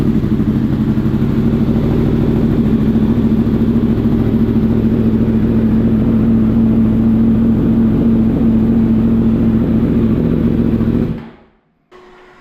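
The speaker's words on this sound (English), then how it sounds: "we'll go ahead and turn her on and fire her up just so you can hear it." A Yamaha R1 sport motorcycle, a 1000cc race build with aftermarket exhaust, idles with a steady, deep rumble for several seconds, then abruptly shuts off into near silence.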